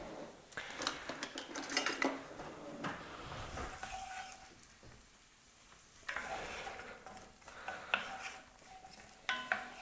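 Oil frying in a pan for a pork and beef ragù comes through as faint, low sizzling under frequent clinks of utensils against the pan and stirring scrapes, with intermittent clatter and no speech.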